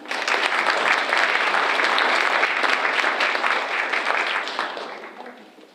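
A graduation crowd applauds Associate of Arts degree recipients at a spring ceremony. The clapping is loud and dense, holds steady, then tapers off toward the end.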